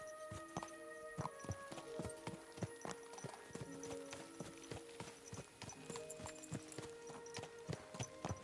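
Horse hooves clip-clop at a steady walking pace in Kingdom Come Deliverance 2, the regular, fairly close hoofbeats continuing throughout over a sustained tonal game background.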